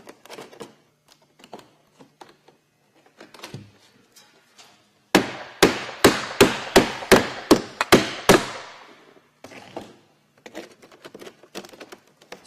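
Wooden end cap being nailed onto ridge boards with a hammer, a quick run of about eight sharp, loud blows in steady rhythm, framed by softer taps and handling noise before and after.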